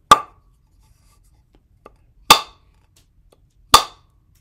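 A Civivi Stormhowl knife chops through a zip tie in three sharp, isolated whacks spaced over a few seconds, each a crisp impact on a cutting surface, with a faint tick between them.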